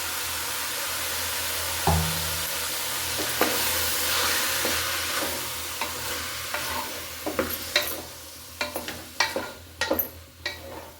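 Ground masala paste dropped into a hot pan for a green pea gravy sizzles steadily with a loud hiss, then a spoon scrapes and stirs in quickening irregular strokes, close and with no talking.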